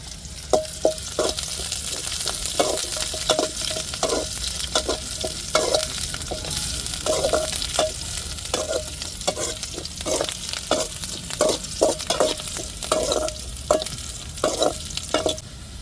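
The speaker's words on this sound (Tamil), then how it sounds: "இப்போ கருவேப்பிலை சேர்த்துக்கிடுவோம்" Curry leaves fry in hot oil in a pan, a close, steady sizzle punctuated by a regular series of sharp metallic clinks as a spoon stirs against the pan, with no voices.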